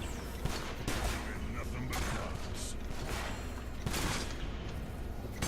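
Gunfire during combat in Enslaved: Odyssey to the West, a steady stream of sharp shots over a busy, noisy fight, with a voice talking over parts of it.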